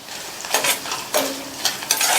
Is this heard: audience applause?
no